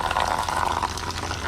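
Water streams steadily from a shower head with a broad, continuous hiss, close and fairly loud, with no talk over it.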